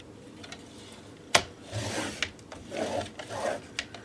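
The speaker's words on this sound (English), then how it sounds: "I'm going to score at 1/2 of an inch on this side" A score line is pressed into a box for a shabby chic vintage camera craft, heard as a sharp initial scrape followed by several quiet rubbing strokes up close.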